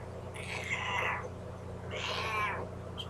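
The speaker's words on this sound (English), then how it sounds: "this is my cat." A pet cat gives two drawn-out meows about a second apart, close by but fairly soft, over a steady low indoor hum.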